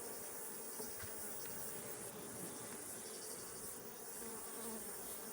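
Honey bees buzz steadily at hive colonies before the honey harvest, a faint, dense, continuous drone with no voices.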